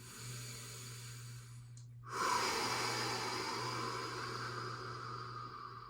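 Deep yoga breathing, a long drawn inhale following a pause, then a sustained airy exhale close to the microphone over a faint steady hum.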